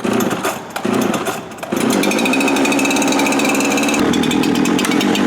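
A chainsaw fires after its pull-start, a loud, close, buzzing engine that sputters briefly and then settles into a steady warming idle, with the revs shifting slightly partway through.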